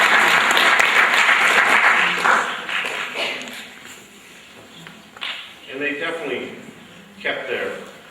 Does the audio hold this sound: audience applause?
yes